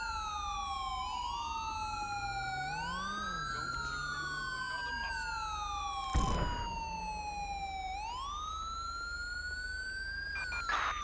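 A police car siren in the video game GTA 5 wails loudly and continuously, its pitch sweeping up and down in long cycles, with a brief low thump partway through.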